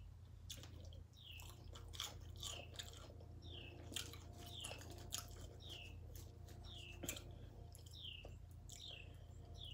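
Someone eats black bean loaded nachos topped with fresh jalapenos, with quiet crunchy bites and chewing repeating at close range while birds chirp softly in the background.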